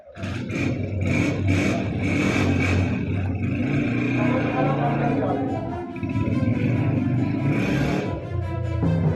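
Motorcycles and other vehicles on a street caught by CCTV, engines running and revving steadily and loudly throughout, with a continuous close motor drone and no talk.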